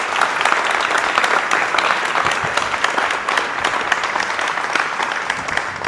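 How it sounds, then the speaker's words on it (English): A graduation-ceremony audience applauds the teachers, loud sustained clapping from many hands forming a thick, even wash for several seconds. "let's give all our teachers here a big round of applause"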